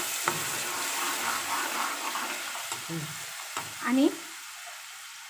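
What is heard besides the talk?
blended onion mixture sizzling as it goes into the pan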